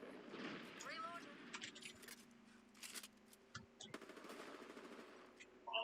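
Gunfire in the video game Apex Legends: rapid bursts of automatic shots and scattered single cracks, fairly faint and mixed with in-game sounds, while a player talks over the action.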